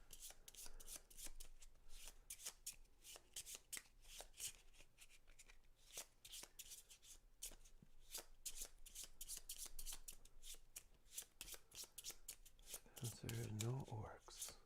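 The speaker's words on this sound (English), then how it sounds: "let's do some shuffling." A deck of game cards for the board game Too Many Bones gets shuffled close up in a long run of quick riffling, flicking bursts, with a brief voice near the end.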